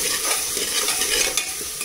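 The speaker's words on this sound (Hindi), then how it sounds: "सारे मसाले एक साथ डाल देते हैं। मैंने आपको नमक दिखाना भूल गई थी, मैंने नमक ले लिया है और अब इसको मिक्स कर देते हैं।" Tomato and spices stirred together in a pan over a high flame, a dense continuous sizzle with scraping stir strokes, close and loud, no voices.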